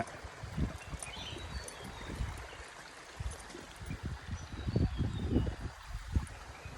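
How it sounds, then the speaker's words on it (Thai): A thin flow of water trickles at Pha Phu Kaew waterfall in Nakhon Ratchasima, a faint, close, uneven burble with soft irregular splashes over a quiet outdoor background. "ก็ไม่ค่อยมีน้ำครับ จะมีน้ำไหลมานิดนึงนะครับ"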